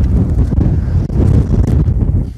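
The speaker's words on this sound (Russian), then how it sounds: "это будет, наверное, сильный ветер." Strong wind buffets a microphone outdoors, a loud, low, uneven rumble with gusty surges and one brief dip.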